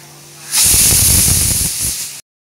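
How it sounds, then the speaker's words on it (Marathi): A pressure cooker full of potatoes lets off a loud, steady burst of hissing steam that lasts under two seconds and then cuts off abruptly, after a quieter stretch of background sound. "त्यांना मी 5 ते 6 शिट्ट्या होईपर्यंत शिजवणार आहे"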